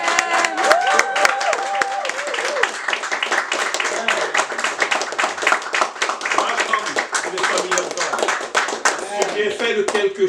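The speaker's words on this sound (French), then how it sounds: "Applaudissez le Seigneur pour Dieu." A church congregation claps rhythmically while people sing and talk over it, the hand claps sharp and steady throughout.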